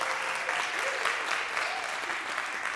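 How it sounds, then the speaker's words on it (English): Audience applause at a live presentation, a steady wash of clapping from a crowd sustained throughout at moderate volume, with no talk. "One more round of applause for Caitlin, everybody."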